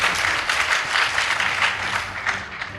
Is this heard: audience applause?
yes